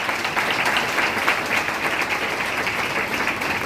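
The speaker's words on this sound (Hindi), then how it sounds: "ओ ताली बजाओ परमेश्वर।" Applause from a church congregation during a Hindi Christian worship gathering, a dense steady wash of many hands clapping at once, loud and continuous throughout without a break.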